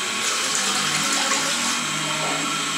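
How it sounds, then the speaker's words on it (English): Hot water pours from a tap in a bathroom for wet shaving, a steady close hiss of running water that stays even throughout with no talking. "hot water."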